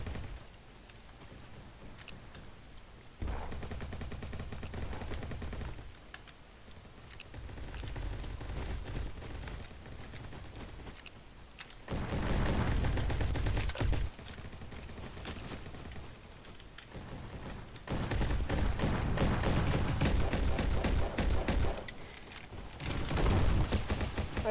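Gunfire in a shooter video game comes in long rapid bursts separated by quieter gaps, steady and fairly loud, with no talking.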